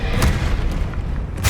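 A Confringo spell blast in Hogwarts Legacy, a loud booming explosion with a dense rumble that fills the short moment, followed by a second burst at the end.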